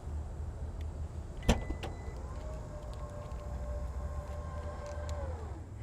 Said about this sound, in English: So just wave your foot under the bumper to open it up.